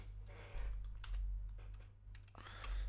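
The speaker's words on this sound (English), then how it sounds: "I'm clicking F12, I'm not clicking delete." Keys clatter steadily on a computer keyboard as someone works in Unity and Blender, close and fairly loud over a low hum, with no talk.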